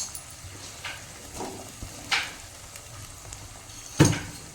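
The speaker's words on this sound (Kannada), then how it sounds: "ಇದೆಲ್ಲದೂ ಚೆನ್ನಾಗಿ ಬೆನೀಲಿ, ಎಲ್ಲ ತರಕಾರಿಗಳು ಚೆನ್ನಾಗಿ ಮೆತ್ತಗಾಗಲಿ ಸ್ವಲ್ಪ. ಇದು ಸ್ವಲ್ಪ ಫ್ರೈ ಆಗಲಿ." Eggplant and tomato frying in a pan, a soft steady sizzle with a few sharper scraping or stirring clicks scattered through, moderately quiet and with no voices.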